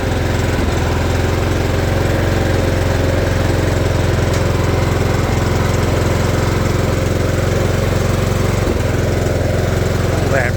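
A Ranch King riding lawn mower starts cold and runs with a loud, steady engine drone that fills the whole stretch and never lets up.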